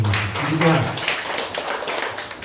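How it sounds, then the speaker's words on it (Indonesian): A church congregation applauds during a sermon, with scattered hand claps and taps over a murmur of voices, moderately loud and fairly brief. "Berikan tepuk tangan untuk Tuhan Yesus"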